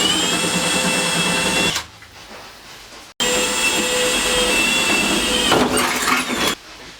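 Rivets are set into a bed panel of a Ford Transit van with a loud pneumatic rivet tool. Two long, harsh bursts are each cut off by a sharp snap, with a short quiet gap between them.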